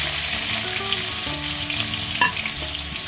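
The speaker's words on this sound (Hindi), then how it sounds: "राई ने भी शोर मचाना शुरू कर दिया है" Mustard seeds and cumin sizzle and crackle in hot oil in a pan while a potato and dill sabzi is being cooked, with a steady close frying hiss broken by small pops and stirring.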